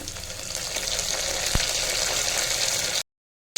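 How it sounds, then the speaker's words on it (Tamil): Onions frying in a pan for white kurma, a steady close sizzle and crackle of hot oil that cuts off abruptly near the end, with no talking. "இப்போ வெங்காயம் சேர்த்தாச்சு. எல்லாத்தையும் வதக்கிடுவோம்."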